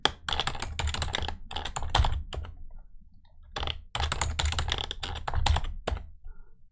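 Someone types a password on a computer keyboard: quick bursts of close, crisp key clicks with brief pauses between runs.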